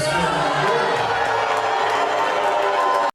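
Rowdy crowd of constituents booing and shouting at a congressman's town hall meeting inside a middle school, a dense, loud continuous roar of many voices with no gaps.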